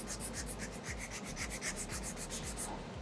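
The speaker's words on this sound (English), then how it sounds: "when I sand back and forth here" Steady back-and-forth sanding on Terreon solid surface material, a rhythmic gritty rasp repeating about five times a second, close and continuous with no voices.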